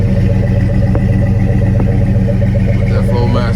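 A 2004 GMC Yukon with a Flowmaster exhaust rumbles at a steady idle, a loud continuous low drone close by, with someone talking over it.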